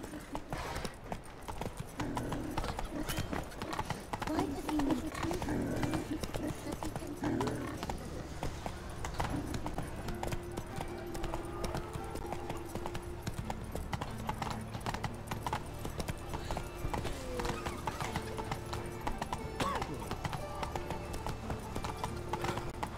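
Horse hooves clip-clop steadily in The Witcher 3: Wild Hunt, a continuous rhythmic trot heard close over game ambience, with a brief whinny early on.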